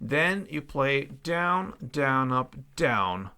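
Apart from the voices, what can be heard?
None of the usual background noises is heard.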